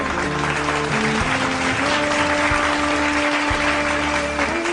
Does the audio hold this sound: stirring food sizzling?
no